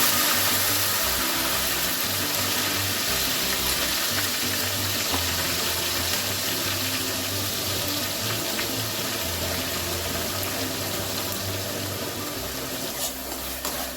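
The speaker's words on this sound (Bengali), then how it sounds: "ফোড়নটা একটু নাড়াচাড়া করে পেঁয়াজ বাটাটা দিই।" Onion paste sizzles in hot oil after spices are tempered for a home-cooked Bengali dish, a loud continuous crackling fry with steady hiss throughout.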